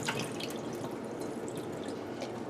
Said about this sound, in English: And I'm going to drain the water.